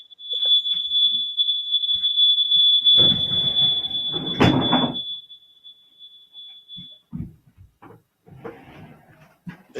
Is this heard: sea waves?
no